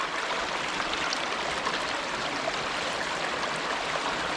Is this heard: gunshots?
no